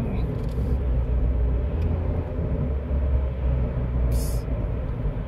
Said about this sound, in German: Ich hätte nie im Leben gedacht, dass ich mal in Österreich Auto fahre irgendwie.